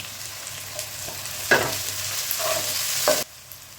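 Curry leaves and chopped tomato sizzle in a hot pan for a mushroom masala, a steady frying hiss with a few louder bursts and scrapes of stirring, fairly close, ending abruptly.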